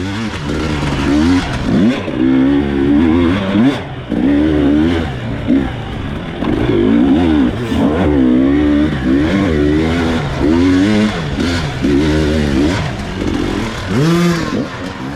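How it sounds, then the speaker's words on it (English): Motorcycle engines rev and roar at an enduro race, with one bike close behind the rider. A loud, continuous engine note repeatedly rises and falls as the throttle opens and closes. "I can hear another bike behind me."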